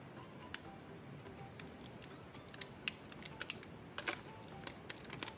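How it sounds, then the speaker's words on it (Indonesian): Samsung Galaxy A52 phone being unboxed, with a steady run of light clicks, crinkles and scrapes of packaging close to the microphone, no talk. "Kita langsung aja buka handphonenya di sini."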